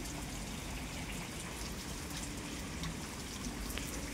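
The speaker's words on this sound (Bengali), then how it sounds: "অঝোর নয়নে বৃষ্টি হচ্ছে" Steady rain falls in a continuous broadband hiss with scattered drop patters, moderately loud and even throughout, no voices.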